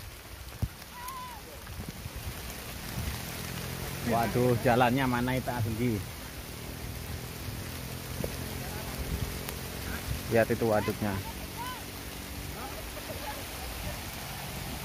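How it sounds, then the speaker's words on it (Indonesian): Steady rain patters down in a constant hiss over a reservoir while people talk over it in two short bursts. "Tiba-tiba hujan."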